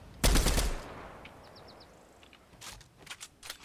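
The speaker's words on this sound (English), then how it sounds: "Okay, guys, I shot at him." Gunfire in the video game Fortnite, opening with a loud, dense burst of shots, then quieter scattered shots and game sounds afterward, with no voices heard.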